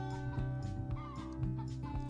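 Cartoonish chickens cluck repeatedly in the mobile farming game Egg Inc, short clucks layered over a steady game music drone and ticking, fairly quiet with no talking.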